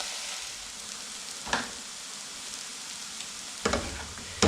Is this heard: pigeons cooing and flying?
no